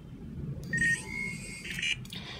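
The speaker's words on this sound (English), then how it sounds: "It is an electronic noise, so the speaker actually emits that noise." A Vivo NEX pop-up camera's speaker plays a short synthetic whirring tone of about a second, with brief chirps, quiet and close over faint room noise.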